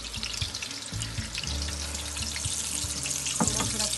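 Food frying in hot ghee and oil in a frying pan, a steady close sizzle with a low rumbling hiss and a few brief spatters, heard alone without talk.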